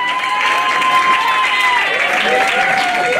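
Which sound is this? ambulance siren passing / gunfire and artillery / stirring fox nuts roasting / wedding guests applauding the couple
wedding guests applauding the couple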